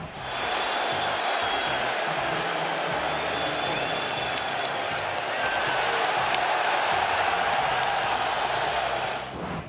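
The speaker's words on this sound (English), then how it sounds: "the Raptors fans started cheering and waving goodbye" A Raptors home crowd cheers and roars in a basketball arena, a loud, sustained wall of voices and whoops filling the whole stretch with scattered sharp peaks.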